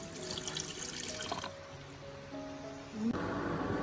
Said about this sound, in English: I pour hot water to the height of the float